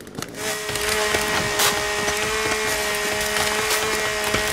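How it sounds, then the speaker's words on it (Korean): In The Forest, a chainsaw grinds through trees with a steady, loud droning buzz and repeated sharp splintering cracks throughout. "나무를 그냥 갈아버리네, 갈아버려"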